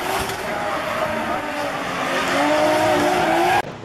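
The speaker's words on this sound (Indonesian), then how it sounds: "Ini juga ada mobil balap warna hijau" A green toy race car is heard with a steady whirring, squealing motor whine that rises slightly in pitch over a few seconds, loud and close, ending in a brief cutoff.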